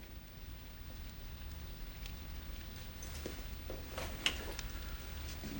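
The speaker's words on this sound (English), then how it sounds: "It's pouring rain." Heavy rain pours steadily, a dense even hiss with scattered louder drops, no voices.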